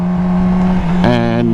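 A Yamaha R6 sport motorcycle with no front brake slows on engine braking. Its engine holds a steady humming drone, then shifts into a richer, rising harmonic whine near the end.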